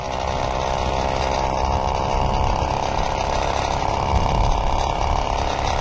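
A rescued Peugeot 103Z moped engine runs steadily with a buzzing two-stroke drone, loud and close, holding an even pitch with slight wavering and no talking.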